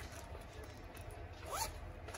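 A small pouch is zipped up with one quick rasping pull, fairly faint against a low background hum.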